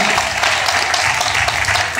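An audience claps steadily and densely at a women's fitness championship, sustained applause filling the hall around competitors on stage, loud and continuous with no voices standing out.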